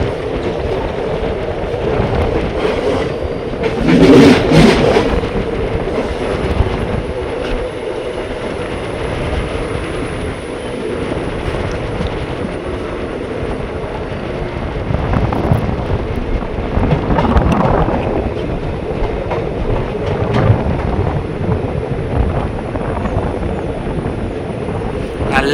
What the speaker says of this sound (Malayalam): ട്രെയിൻ കണ്ണൂർ റെയിൽവേ സ്റ്റേഷനിലേക്ക് എത്തിക്കൊണ്ടിരിക്കുകയാണ്.